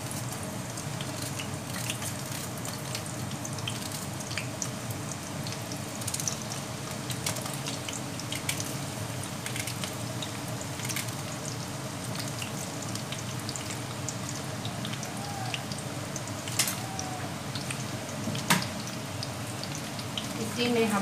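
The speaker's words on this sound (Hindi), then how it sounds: "जिसमें हमने पकोड़े तले थे उसी में हम प्याज को ब्राउन करेंगे।" Onions sizzle and brown in hot oil left over from frying pakoras, a steady close crackle with scattered pops that continues for about twenty seconds.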